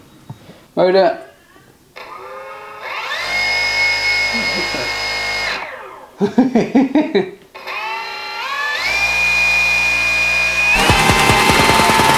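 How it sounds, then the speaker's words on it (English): The electric motor of a radio-control wing suit spins up in two bursts, each a rising whine that holds at a steady pitch. A louder, rougher surge of motor noise comes at the end, with people talking nearby between the runs. "and the motor."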